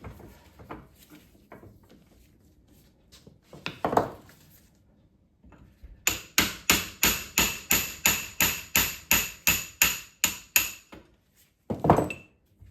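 Metal hammering while driving out a roller shaft on a Ransomes 16-inch Certes mower: a few scattered knocks, then a rapid run of about fifteen evenly spaced sharp, ringing blows, followed by a couple more strikes.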